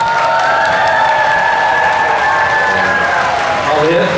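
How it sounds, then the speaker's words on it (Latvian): Audience applause and cheering at a school graduation-class evening performance in Ogre, a loud, sustained wash of clapping with cheers and whistles running throughout, densely packed and close. "Un tātad lūdzu aplausi par Jankās"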